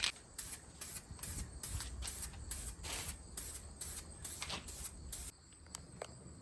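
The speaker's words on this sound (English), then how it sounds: "Second coat going on." Spray paint is applied as a second coat on a Mazda 3 during a car flip, heard as a series of short hissing spray bursts with faint shuffling between them, fairly quiet and close, with no speech.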